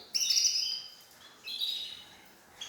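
A canary singing: two bright, high trilling phrases with a pause between, clear and fairly close against a quiet background.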